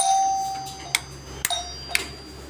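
An electric calling bell being wired and tested gives a steady ringing tone that fades out, followed by a few sharp clicks spaced about half a second apart, close and fairly quiet.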